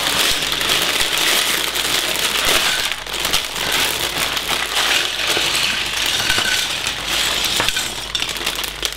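Plastic bag of Lego pieces torn open and rummaged, giving continuous crinkling and bright clinking of small plastic bricks, close and steady throughout with no talk.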